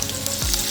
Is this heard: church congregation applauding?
no